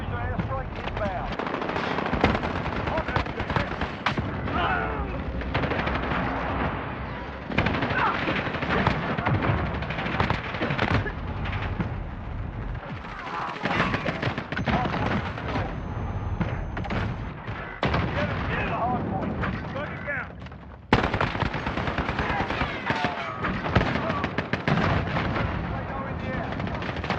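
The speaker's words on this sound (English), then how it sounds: "Be advised. Enemy precision airstrike inbound." An enemy precision airstrike and heavy gunfire in a war video game: sustained, loud machine-gun fire and explosions over about half a minute, broken by brief lulls, with radio voices speaking now and then.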